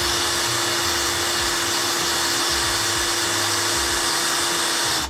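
A Virax Eurostem III electric pipe bender runs as it bends a pipe, giving a loud, steady motor whine with a constant hum that holds unbroken for about five seconds before cutting off abruptly.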